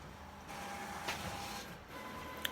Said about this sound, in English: my printer is acting janky